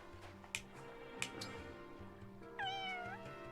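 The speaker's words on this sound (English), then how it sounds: "Meow." A single cat in Fire Emblem Engage meows once with a clear rising-and-falling cry, after a few soft clicks over a quiet, steady musical background.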